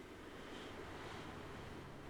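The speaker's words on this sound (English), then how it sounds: "well, you can hear it, relaxing ocean waves" Steady relaxing ocean surf on a Subnautica island, a soft continuous wash of waves and wind, even and unbroken throughout with no voices.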